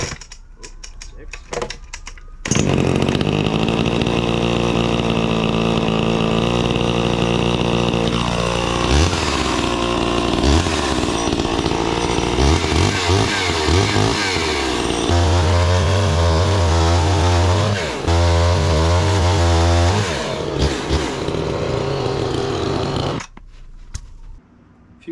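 A restored vintage Craftsman chainsaw engine fires up after a moment of silence, then runs loud and close for about twenty seconds, idling and revving with shifting pitch before cutting off abruptly.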